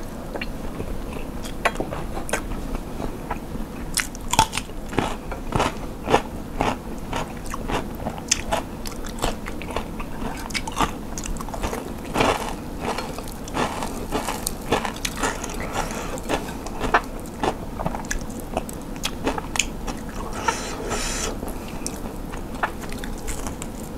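Someone eating grilled fish with rice, with close, steady bites and crunchy chewing in an irregular rhythm, joined by occasional light scrapes of utensils, and no talking.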